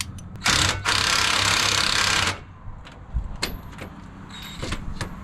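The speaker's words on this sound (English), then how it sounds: "the two caliper bolts, they're 21s. I'm gonna go ahead and take those off right now" An impact wrench loosening the 21 mm brake caliper bolts on a 4th-generation Ram 1500 gives two loud, close bursts of whirring, followed by metallic clinks and rattles as tools and parts are handled.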